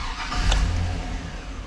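A car with a high-idle fault cranks and catches, the engine rumbling up loudly and close, then settling into a steady, elevated idle with no one speaking.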